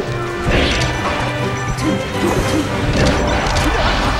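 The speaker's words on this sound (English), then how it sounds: "up smash beats dash attack" An up smash hit landing in a Super Smash Bros match, heard as a crunchy impact amid a dense, busy wash of game sound effects and crowd-like noise at steady loudness.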